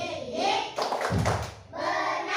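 Rhythmic hand clapping for the Tepuk Sifat Rasul chant in a religious education lesson, with voices chanting and speaking over the claps in short bursts.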